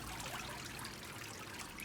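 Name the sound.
water running off a papermaking screen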